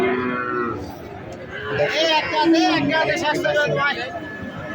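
Calves of Sahiwal and local breeds low at the Abad Pukur cattle market in Naogaon, their moos rising over a busy crowd and steady chatter close by.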